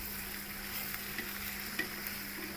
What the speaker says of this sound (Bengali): পেঁয়াজ বাটাটা একটু ভাজা হইলে তারপর মশলা দেবো এক এক করে।